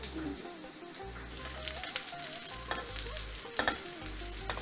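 Lemons frying in a pan for a spiced curry lemon pickle, a steady close sizzle and crackle with occasional stirring scrapes and small pops, constant and fairly loud throughout.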